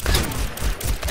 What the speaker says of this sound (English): That pistol does a lot of damage.